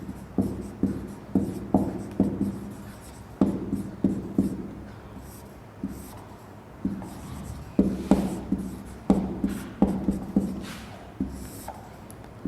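Chalk strokes on a classroom board during a Hindi literature lesson: rhythmic bursts of scratching and tapping in clustered groups with short pauses, fairly close and clear, no voice over them.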